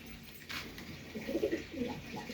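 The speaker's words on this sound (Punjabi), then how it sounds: "ਇਹ ਘੱਟੋ 30 40 ਦੇ ਕਰੀਬ ਕਬੂਤਰ ਨੇ ਆਏ ਹੋਏ" A flock of roughly thirty to forty pigeons coos in soft, low, rolling bursts that swell in the middle and end of the stretch, over a steady background hum.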